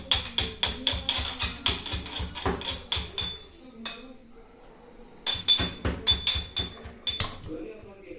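Garlic is pounded in a home kitchen with a rhythmic run of sharp, ringing thuds, two bursts of quick regular strikes separated by a short pause, close and clear.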